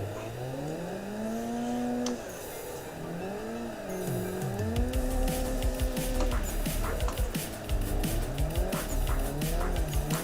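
Drifting car in Assetto Corsa sim racing, tires squealing in long wavering howls as the engine note rises and falls through a tandem drift, loud and continuous with skidding throughout.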